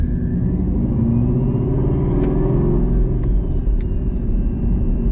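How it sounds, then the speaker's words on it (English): A car engine fitted with a Whipple supercharger is heard from inside the cabin: a loud, deep, steady rumble with faint whine on top, continuous throughout with no talking. "Maybe you guys can hear how the Whipple sounds inside the car."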